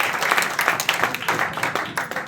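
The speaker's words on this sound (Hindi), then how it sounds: "एक जोरदार ताली।" An audience at a business talk gives a round of applause, with distinct claps rising and falling in uneven bursts at moderate volume.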